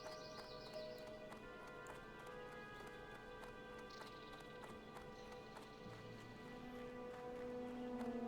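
Steady clip-clop of a horse-drawn wagon in World of Warcraft Classic, a continuous hoof rhythm heard over layered game music and ambience, moderately loud throughout.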